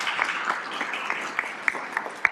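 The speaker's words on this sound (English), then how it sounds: "could we give a round of applause to the thespians?" Brief applause breaks out from an audience at a school board meeting, scattered moderately loud claps over a couple of seconds.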